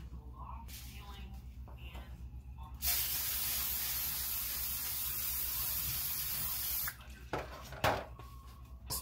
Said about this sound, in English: Go ahead and give this a quick spray.